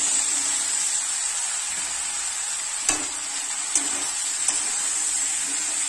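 Soaked elephant foot yam being fried with spices in a pan, a steady close hiss of sizzling oil throughout, broken by a few soft scraping stirs.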